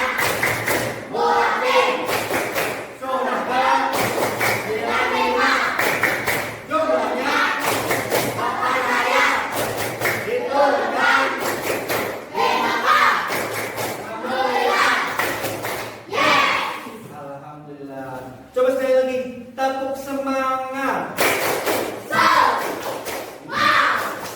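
Students clap a rhythmic chant for Surah At-Tin in a classroom, sharp thuds of many hands in a steady beat, loud and close, with voices chanting along throughout.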